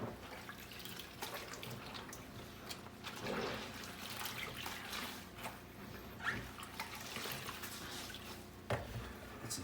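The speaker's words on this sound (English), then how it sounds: "So this will be the first rinse." Clothes are rinsed by hand in a basin of water, with continuous sloshing, splashing and dripping as the wet fabric is lifted and pushed through it. The sound is close and there is no talking.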